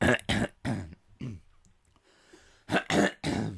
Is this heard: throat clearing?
yes